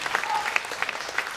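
An assembly audience at a 2013 association meeting claps for François, the cameraman; individual hand claps stand out as sharp, irregular bursts over a close, lively ripple of applause.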